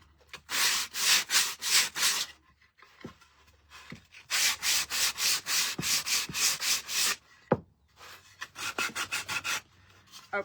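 Painted wood is sanded by hand to distress it and reveal bare wood, heard as loud, rhythmic back-and-forth rasping strokes in three bursts separated by short pauses and soft knocks, close and without speech.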